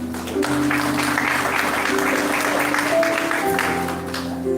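An audience at a conference claps in a steady, sustained round of applause that fills the room, with a low hum and tones beneath it.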